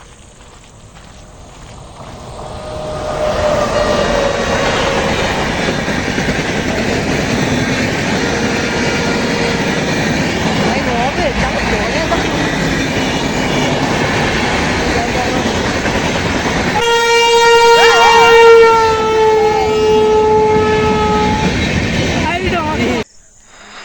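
A train rumbles past close by for a long stretch, with a horn blaring near the end while people talk over the noise.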